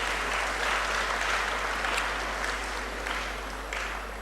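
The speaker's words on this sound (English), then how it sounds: "Let's give her another round of applause." An audience at an inaugural university lecture gives a sustained round of applause, dense and even throughout, with no voices over it.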